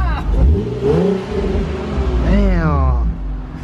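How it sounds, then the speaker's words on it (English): An Infiniti Q50 3.0T engine revs up twice, rising and falling in pitch with a loud, close exhaust rumble, while people talk over it. "Give these people a rev up real quick."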